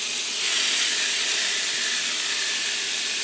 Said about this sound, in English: Now you hear that sizzle,